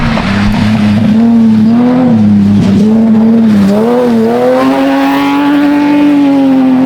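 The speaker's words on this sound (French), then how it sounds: "transition parfaite, petite voiture qui arrive" A rally car on a gravel stage of the Rallye Terre des Causses 2025 passes at speed, its engine a loud, sustained drone that rises and shifts pitch as it goes by close, with no voices over it.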